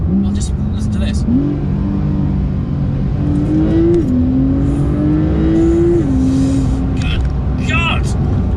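A Porsche 911 Turbo S (992) engine revs and climbs through the gears in Sport Plus mode, its pitch rising in steady pulls with brief dips at shifts, loud and close with road roar underneath.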